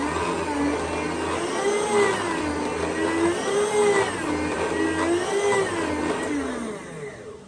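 Electric meat slicer cutting ham into slices, a steady motor whine with wavering pitch as the blade runs through the meat, loud and close, tapering off at the end.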